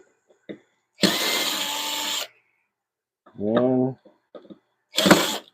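A power drill backs screws out of a woodturning lathe in short bursts: one long whirring run, a brief pause, then another quick burst, close and loud, with speech in between.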